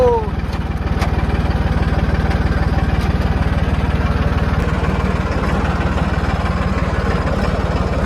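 A tractor engine chugs steadily and loudly up close with a constant low throbbing rhythm as it heads out toward the field pulling a plough.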